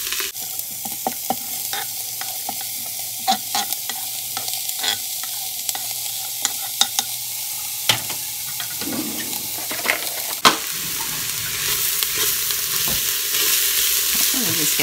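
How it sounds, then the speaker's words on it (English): Onions sizzle in a Cosori electric pressure cooker pot while a utensil stirs them, giving repeated scraping knocks over a steady frying hiss that swells louder toward the end. "We're just gonna move this around and let these cook down."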